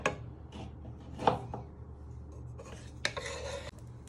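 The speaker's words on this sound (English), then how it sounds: "Just stir that round the pan." Garlic mushrooms being stirred round a frying pan, with scattered scraping and clinking of a utensil against the pan in short bursts at moderate level.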